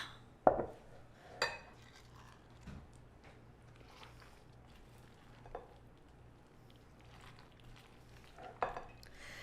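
Pasta salad with chicken, bacon and ranch dressing is stirred in a bowl, giving soft wet scraping and a few sharp clinks of a utensil against the bowl, quiet and without talk.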